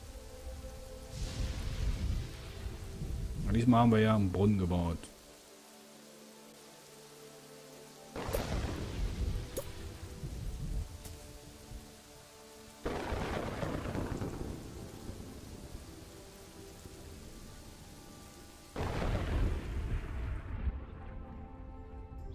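Rain and thunder in the video game Kingdoms and Castles: several long thunder rumbles arrive at intervals over continuous rainfall, with quiet gaps between them and someone briefly talking early on.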